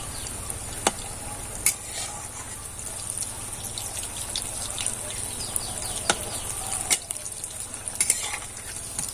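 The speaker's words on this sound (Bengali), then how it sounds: "আর এইভাবে কিন্তু একটু সময় হাতে নিয়ে আস্তে আস্তে ভাজতে হবে" Suji toast biscuits fry slowly in a pan, giving a steady soft sizzle with faint crackles and a few sharp pops and clinks scattered through it.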